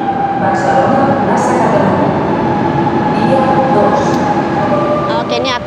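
A train bound for Barcelona pulls into a station, a loud continuous rumble of wheels and carriages with squealing brakes and clattering rising over the last seconds, while voices chatter on the platform.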